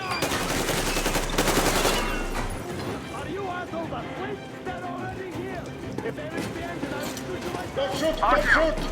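Bursts of machine gun fire in the video game Metro Exodus, loud and rapid at first and then sporadic, mixed with in-game voices and combat noise.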